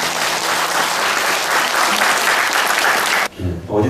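A church congregation applauds loudly to welcome visiting friends, dense clapping sustained for about three seconds before cutting off abruptly as a voice begins speaking.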